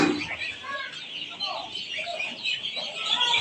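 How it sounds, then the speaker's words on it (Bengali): Chickens at a poultry seller's farm with Brahma hens and white layer chicks, clucking and chirping in a busy background murmur while someone talks over them. "ব্রাহ্মা মুরগি আছে, সাদা লেয়ার মুরগির বাচ্চা আছে"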